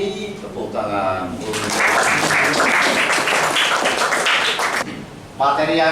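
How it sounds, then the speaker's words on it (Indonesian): A classroom group breaks into a burst of steady applause after singing a song during a teaching-practice lesson. The clapping lasts about three seconds, with talking just before and after it. "Tepuk tangan."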